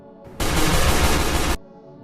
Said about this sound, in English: Gunfire erupted inside a motel room, and the gunman then fled into the parking lot, where more gunfire was exchanged.